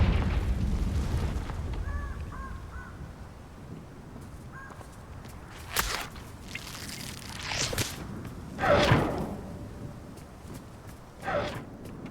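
Confringo explosion spells in Hogwarts Legacy go off as several separate whooshing bursts over a quiet game ambience.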